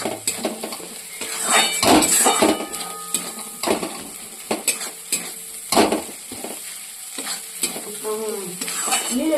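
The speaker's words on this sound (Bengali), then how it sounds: "মানে যেটা বলে মিক্সিং, সেভাবে করা হচ্ছে মশলাটা আর কি" Spice masala is stirred and mixed in a pan while cooking duck. A spatula scrapes and clatters against the metal in an irregular rhythm over a steady close sizzle, with no voices.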